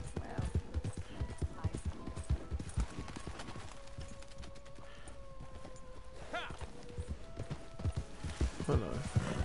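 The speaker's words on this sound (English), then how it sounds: "If my horse was fucking faster." Horse hooves galloping in Red Dead Redemption 2, a fast rhythmic clip-clop running steadily throughout, with game tones and background sound layered under it and a voice speaking over it.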